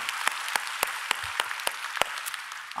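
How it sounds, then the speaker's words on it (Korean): A congregation in a Korean church applauds, a dense steady wash of many hands with a few sharper claps falling in a loose, regular rhythm, moderately loud throughout before fading at the end. "좋으신 하나님께 박수로 감사합니다."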